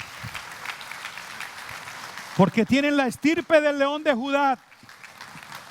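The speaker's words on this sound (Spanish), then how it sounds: "Vamos a darle un aplauso a todas esas leonas" Church congregation applause, a steady clapping wash that starts alone and continues under a preacher's loud sermon.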